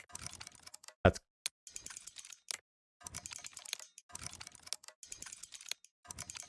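Quick lockpick tumbler clicks from Oblivion Remastered, a series of short faint clicking bursts in several clusters separated by brief gaps, with one louder sharp click near the start.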